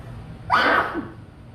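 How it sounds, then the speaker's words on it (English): A single forceful sneeze, near and loud, followed by a short fading breath. "I've been doing this all day. Sneezing."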